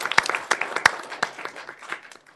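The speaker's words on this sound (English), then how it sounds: "I think I want to clap on this one." A few people at a city council work session clap briefly, sparse distinct claps from a small group, close and uneven, tapering off toward the end.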